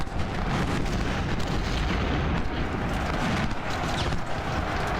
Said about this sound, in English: 12-pounder Napoleons firing very well at close range